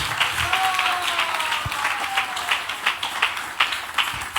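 A church congregation claps hands together in a continuous crowded patter, moderately loud, with faint tonal voices or sustained notes drifting underneath.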